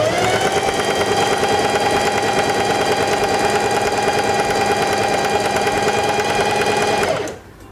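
A Singer 4411 Heavy Duty sewing machine stitches fabric in a steady, loud, fast mechanical whir that runs continuously, then stops abruptly near the end.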